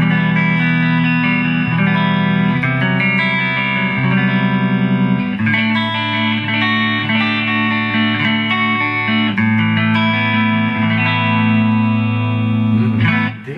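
An Epiphone ES355 electric guitar with a Gibson Custombucker in the front pickup position plays chords and single notes with a clean, quick-responding tone and light effects, sounding continuously and alone for over thirteen seconds.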